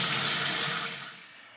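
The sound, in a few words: rinsing brined trout under cold running water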